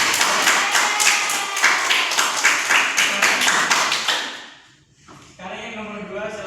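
A classroom applauds a student's answer during a physics microteaching lesson, a dense burst of clapping from many hands that fades out after about four seconds, followed by a voice speaking.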